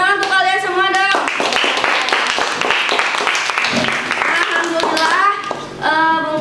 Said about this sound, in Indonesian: Tepuk tangan untuk kalian semua dong.